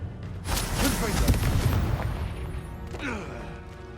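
Confringo fire curse explosions go off in Hogwarts Legacy as a pair of booming, crashing blasts, the first heavy and rumbling and the second softer, mixed with other game effects and spoken voices.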